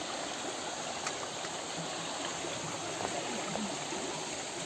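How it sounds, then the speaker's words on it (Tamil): A small stream of water flowing at a waterfall, a steady outdoor rush and trickle heard close and continuous with no voices. "பார்த்தீங்களா, அப்படியே சின்னதாக அந்த ஓடை மாதிரி போகுது."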